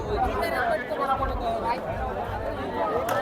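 Dense crowd chatter and babble from a huge gathering at the Malvan Narali Purnima festival's coconut contest, steady and close throughout with no single voice standing out.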